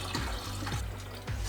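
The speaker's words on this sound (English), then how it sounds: "It's leaking somewhere back here." Coolant trickling and splashing from a pinched water pump gasket on a twin-turbo street car engine, a steady close liquid wash with a few louder spurts over low background hum.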